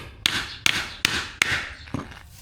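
A hammer strikes a workpiece five times during a home DIY job, each blow a sharp, close crack with a short ringing tail, spaced in an uneven rhythm with no talking.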